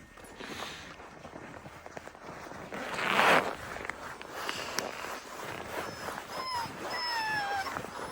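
Sled dogs at an Arctic kennel whimpering and whining in high, rising cries toward the end, over a steady bed of shuffling, rustling and movement nearby.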